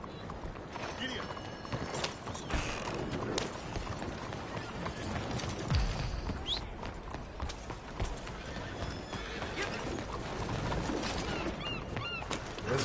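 Horse galloping in Red Dead Redemption 2, rhythmic hoofbeats clip-clopping steadily throughout with occasional snorts and whinnies, birds in the background and a voice urging the horse on.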